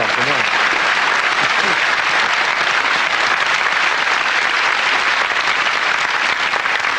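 A television studio audience applauds a guest, sustained loud clapping from many hands, even and unbroken throughout, with a brief voice faintly audible at the start.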